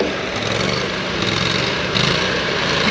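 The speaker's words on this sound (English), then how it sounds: "We're gonna get mowing." A lawn mower runs steadily and loud throughout, its broadband engine drone holding constant with a slight surge near the end, heard up close on a job site.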